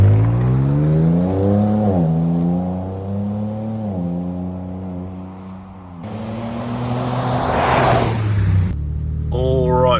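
An all-new Ford Ranger Raptor mid-size pickup heads downhill off-road, its engine humming close up and shifting pitch through several gear changes, with a rougher rising rush of noise later and talk underneath.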